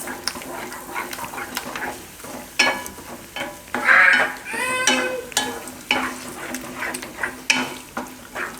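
A spoon stirring tomato ketchup sauce in a pan on the stove, with repeated scrapes and knocks against the metal over a soft sizzle, the strokes coming at an uneven, unhurried pace.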